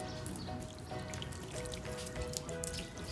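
Water is poured onto a tabletop and runs and drips in a quiet, steady trickle with scattered splashy drops. It comes from a shaving cream art session and sounds soft and nearby, with no talking.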